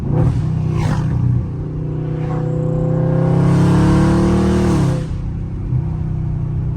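A Dodge Scat Pack exhaust without headers revs up loudly with a deep, burbling rumble, holds a rising roar for a few seconds, then drops back to a throaty idle.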